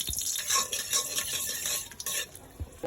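Dried red chilies crackle in hot oil at the start of a dal bhuna, a steady close sizzle with scattered stirring clinks of a utensil against the pan, no voices.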